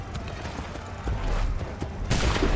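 Musket volley fire from a line of soldiers in the Assassin's Creed III video game, loud and dense, with a heavier burst of gunfire near the end over a constant rumbling battle backdrop.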